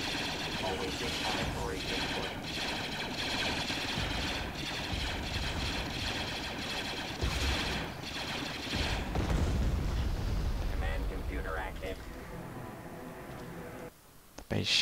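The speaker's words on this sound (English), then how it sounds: "Where's that cannon fire coming from?" Booming cannon shots and rapid blasts rumble through a dense battle din in Star Wars: Empire at War: Forces of Corruption with a Clone Wars mod, with heavy low thuds and crackling fire throughout, and a voice speaks over it.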